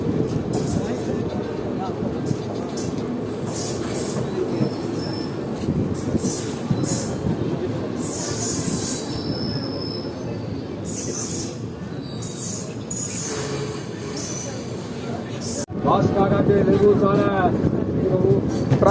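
The 13028 Azimganj Kaviguru Express pulling out of Sainthia Junction, a loud continuous rumble of rolling wheels and carriages with brief squeals and rattles, growing heavier toward the end.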